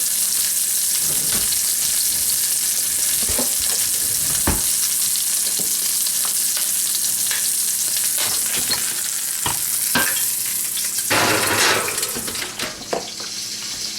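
Bacon-wrapped stuffed chicken thighs crackle and spit steadily in a hot pan with the bacon crisping, punctuated by a few sharp clinks and scrapes, and a louder burst of sizzle near the end.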